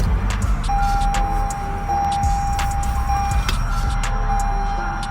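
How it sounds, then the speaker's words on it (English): A 2023 Toyota Camry SE with a 2.5-liter engine, started with a key rather than a push button, gives a steady close engine rumble under a sustained electronic chime and a few faint clicks. "Go ahead and crank this up. And of course, you gotta use the key again."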